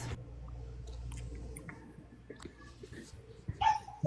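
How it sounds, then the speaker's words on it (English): A dog barks a couple of times near the end, sharp and fairly close, over a low background hum in a home setting during an election live stream. "Sorry, the dog's barking, everyone."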